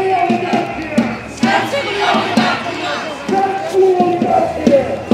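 A protest crowd chants against the oligarchy in loud, rhythmic bursts of many voices shouting together, close and forceful, repeating in waves with short dips between them.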